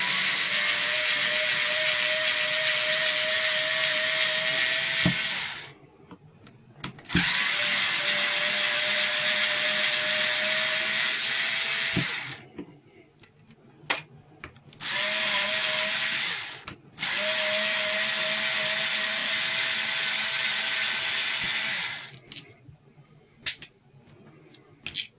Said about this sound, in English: I'm using my little drill driver, which makes some noise, but it's a lot quicker.